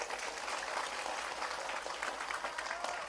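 Audience at an Indonesian Islamic sermon gathering breaks into steady, dense applause that fills the whole span, loud and close, with only faint voices beneath.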